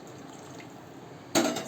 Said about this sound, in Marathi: साधारणतः 1 कप पाणी ओतले मी